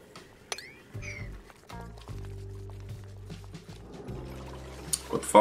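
Water flowing in the video game Oxygen Not Included: soft liquid pouring and trickling with faint drips, under game tones and some low background hum.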